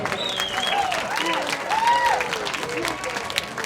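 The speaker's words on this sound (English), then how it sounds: "Let's give them a round of applause" A crowd applauds steadily at a Central Maine Idol singing competition night, clapping filling the space while an announcer's voice carries over it.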